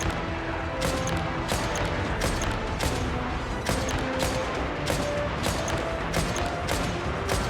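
Guns fired in the Genshin Impact game during a mission, a rapid run of sharp loud shots repeating roughly every half second over a dense, busy battle backdrop.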